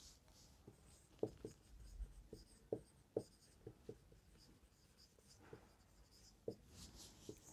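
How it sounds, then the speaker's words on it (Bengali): Pen or chalk writing out a math equation, a sequence of quiet scratchy strokes and taps at an irregular pace, close and soft with faint background hiss. "তাহলে আবার লিখব"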